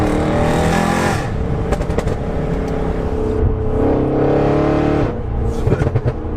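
An Audi RS6 engine, about 700 bhp, drones steadily while driving, with a brief lift around the middle and a dip then renewed pull near the end.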